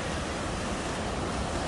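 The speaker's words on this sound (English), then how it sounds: "These are the first set of waterfalls, Pecker Falls." Pecker Falls, a waterfall on the Ingleton trail in Carnforth, UK, a loud, continuous rushing roar of falling water, close by and unbroken, with some wind buffeting.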